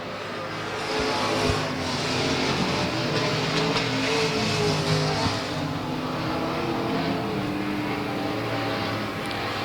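A race car, the 53X machine, roars steadily through turns 1 and 2 on a lap at South Texas Speedway, a dense, continuous engine drone that stays loud and fairly constant throughout.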